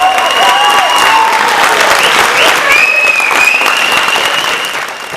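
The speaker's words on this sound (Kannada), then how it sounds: "ಮತ್ತೊಮ್ಮೆ ಜೋರಾದ ಚಪ್ಪಾಳೆಯ ಮೂಲಕ" Loud, sustained applause from a theatre audience for an actor performing on stage for the first time, a dense wash of clapping that holds steady and only begins to thin near the end.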